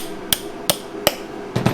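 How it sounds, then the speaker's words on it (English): A hammer drives a 3/8 inch eye bolt into a wooden sled table: four sharp, evenly spaced strikes, close and loud, the last a doubled blow, with no talking. "Grab your hammer."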